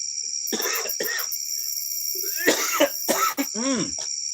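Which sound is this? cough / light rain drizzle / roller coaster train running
cough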